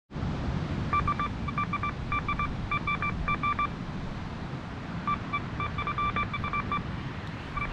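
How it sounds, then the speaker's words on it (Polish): A Pro 18 metal detector sweeping a sand beach gives bursts of repeated short electronic beeps, two clusters separated by a pause, over a constant wash of wind and surf. "Jest tutaj gdzieś sygnał."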